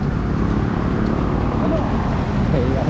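Steady road traffic rumbles along a busy street on a run from Trinoma to Antipolo Cathedral, engines droning continuously and close, with someone speaking briefly over it.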